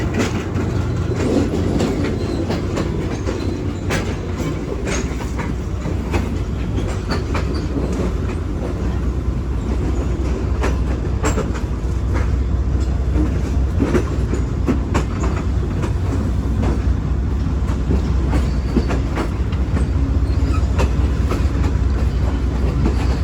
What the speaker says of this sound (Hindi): और अभी जो है हम स्ट्रेट जा रहे हैं, रेल लाइन बनती है